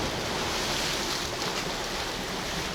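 Black Sea waves roll onto rocks along the Odesa shore after a storm on a windless day, a loud, dense, continuous wash of surf with no talk.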